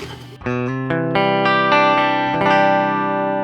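Electric guitar played through a clean preamp with no amp or cabinet simulation, with a gritty, slightly distorted tone playing sustained chords and notes in a dry, close sound with no talking.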